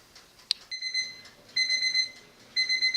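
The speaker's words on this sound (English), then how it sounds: "the timer has gone off, so that means that the bread should be done" A kitchen timer goes off while bread bakes, with repeated bursts of high electronic beeping, close and clear, in three spaced groups after a single click.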